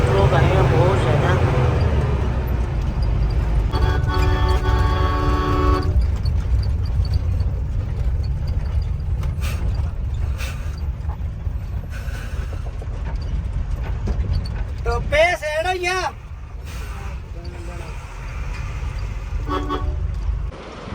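Vehicles on a snowy mountain road in Ladakh, a continuous low engine rumble with several short horn toots scattered through, as someone talks over it.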